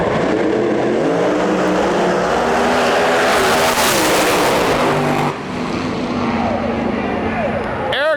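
Pair of 1969 Camaro drag race cars launching side by side down a drag strip at a national event, a loud roaring blast that builds and sweeps away, with an announcer talking over the engines and crowd noise.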